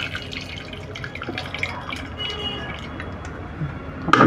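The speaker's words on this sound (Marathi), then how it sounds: "मग आपण थोडं पाणी काढून घेऊ" Water drained off boiled pav bhaji vegetables, heard close up as soft dripping and trickling with a few wet squishes and a sharper clatter at the very end.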